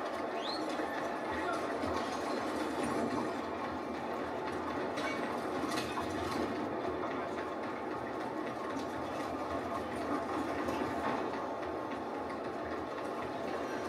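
A steam-era train in the video game Red Dead Redemption 2 gives a continuous rumbling roll with metallic clatter and rattling mechanisms, steady and fairly subdued for the whole stretch.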